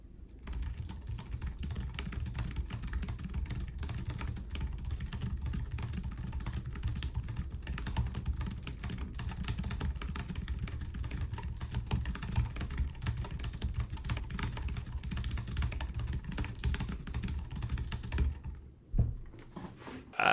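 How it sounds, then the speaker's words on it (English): Fast, continuous typing on a wireless computer keyboard, the dense clatter of keystrokes running close and steady for about eighteen seconds before a brief pause near the end. "it's just not a very satisfying keyboard for me to type on"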